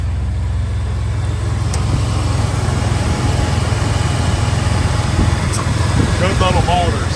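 A 1999 Chevrolet S10 pickup with a 4.3 engine runs steadily at idle, a continuous low rumbling exhaust drone close by, with a faint brief background voice near the end.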